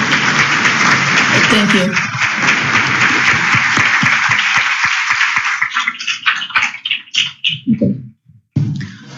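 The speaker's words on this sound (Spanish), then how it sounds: "Un aplauso, por favor, para la invitada." Conference audience applauding a guest speaker at an annual perinatal health meeting, a long, loud, dense burst that thins into scattered claps and fades, with a brief spoken thanks near the end.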